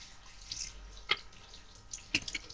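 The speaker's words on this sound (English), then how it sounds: "I'll put my thumb over the nozzle again as I turn it on." Water from a bucket shower nozzle sprays steadily while a dog is rinsed, a soft continuous hiss broken by a couple of sharper splashes, close and fairly quiet.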